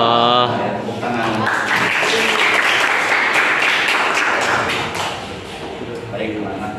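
Students in a Year 10 Islamic religious education class at a state high school break into clapping after a recitation, a dense burst of applause framed by a teacher's voice at the start and end.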